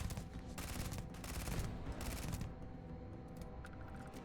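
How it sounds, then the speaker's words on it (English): Rapid automatic gunfire from a video game firefight in Starfield, a dense, continuous rattling burst that thins out toward the end, fairly quiet and with no talk over it. "I'm not going to stop shooting."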